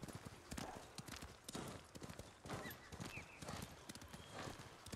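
Horse hooves clip-clop steadily at a walking pace in the video game Ghost of Tsushima, a thin, bony horse plodding along with soft outdoor ambience and an occasional faint whinny.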